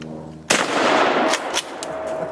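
A single close, sharp shotgun blast hits a propane tank, then a short echoing decay and a couple of fainter follow-up cracks.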